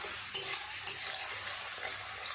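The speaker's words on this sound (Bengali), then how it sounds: "একটু নেড়ে চেড়ে কষিয়ে নেব।" Turmeric, chilli powder and many green chillies frying in oil while being stirred: a quiet, steady sizzle with a few light clicks of a spatula against the pan, no voices.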